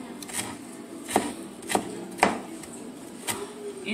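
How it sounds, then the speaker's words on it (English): Onions being chopped with a knife on a board, a handful of sharp irregular cuts spaced apart over a steady low background hum, moderately close. "Show you how I cut my onions and cry at the same time."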